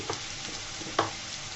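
Turmeric and chilli powder sizzle in hot oil, a soft continuous crackle with a brief scrape of stirring near the end.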